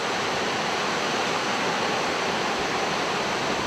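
Waterfall in the Altay mountains, a steady, full-band roar of falling water that stays constant and close throughout, with no voices.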